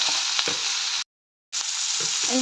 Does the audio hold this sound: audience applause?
no